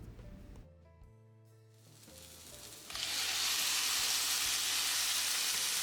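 Tomato paste goes into hot murungakkai puli kuzhambu, and after a quieter stir a loud, bright sizzle erupts and keeps hissing strongly close by.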